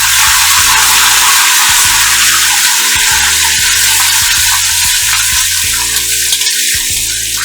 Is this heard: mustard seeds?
yes